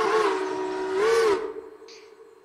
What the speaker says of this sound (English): We have a CNJ 3 chime 1, but this one is not from the game built in.